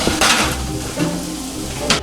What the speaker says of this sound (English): now our burgers look good! Beautiful things. Sizzling like a motherfucker.